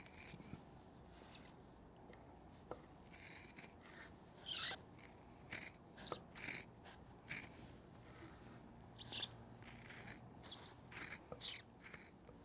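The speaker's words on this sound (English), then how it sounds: "And now we can trim. And I find this best to do with the shears." Shears trimming leather for a guitar strap: quiet, intermittent snipping cuts close up, spaced irregularly over a soft background hush with no talk.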